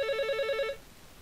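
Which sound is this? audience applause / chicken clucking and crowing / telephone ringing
telephone ringing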